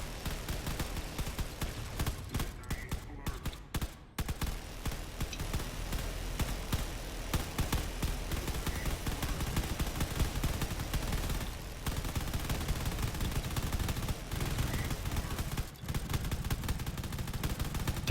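Sustained barrage of battleship guns firing in a space video game during a pirate invasion, dense rapid bursts and booms rolling continuously at steady loudness.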